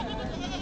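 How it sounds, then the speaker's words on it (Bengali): A goat bleats briefly at a livestock market section where goats and sheep are sold, a short wavering cry heard close by with no one speaking. "হাটের এই পাশটায় শুধু ছাগল এবং ভেড়া বিক্রি হয়।"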